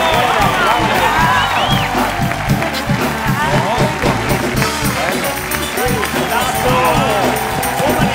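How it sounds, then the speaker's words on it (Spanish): A television studio audience on a late-night talk show applauds and cheers to welcome guests, with dense sustained clapping and whoops while voices call out over the noise. "Un fuerte aplauso para Laureano Wild y Laura Viñate"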